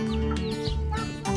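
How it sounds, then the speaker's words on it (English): A large flock of around 300 chickens clucks in a farm coop, dense overlapping clucks and short calls close by, with a steady busy murmur underneath. "They have 300 chickens."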